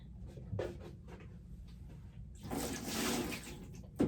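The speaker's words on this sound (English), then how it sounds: "I'm going to pour some water in" Water pours into a plaster-coated container for a potter's damp box, a soft splash rising into a fuller rushing gush midway, close and alone without voices.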